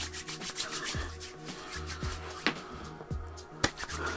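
Hair styling product rubbed between the palms before styling men's hair, a close, soft, steady rubbing with repeated strokes and a few sharper skin-contact clicks, with no talking.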